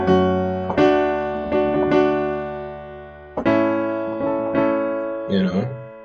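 A minor chord is struck several times in a row, each ringing and fading before the next strike, with a short cluster of softer notes at the end.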